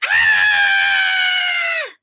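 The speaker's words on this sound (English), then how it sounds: "I'd scream." A person lets out a single loud, sustained scream lasting nearly two seconds, close and alone, holding a steady pitch before cutting off.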